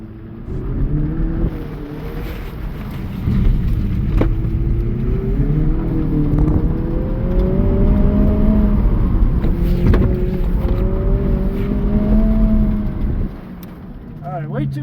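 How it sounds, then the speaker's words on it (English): A Dodge Neon on an autocross course at a driving school, its engine droning steadily and rising and falling in pitch with throttle changes through the run, loud and close from inside the car. "Sucker on the throttle."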